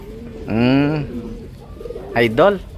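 A racing pigeon coos nearby in two rolling, throaty phrases separated by a short pause, with quieter background sounds in between.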